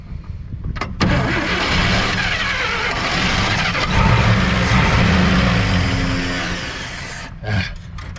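A 1958 Chevy Apache pickup, run again after twenty years of sitting, cranks and catches, then holds a loud, rough idle close by with slight swells in revs before cutting off near the end.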